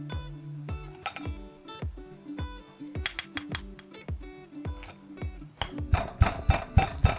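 A pestle pounds lemongrass and galangal into paste in a mortar, a steady series of sharp knocks with bright clinks, speeding into a denser, louder burst of strikes near the end.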